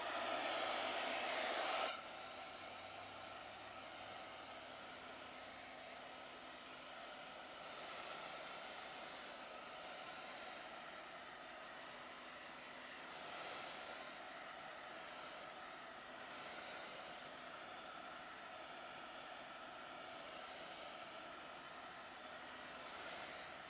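Hair dryer blowing steadily on acrylic paint, a continuous airy whoosh held at close range throughout, with slight swells in intensity as it is moved over the surface and no talking.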